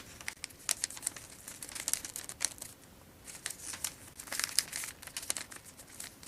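Strips of magazine paper being folded for a woven tote bag crinkle and crackle in quick, irregular bursts close up, with short pauses between handlings and no talking.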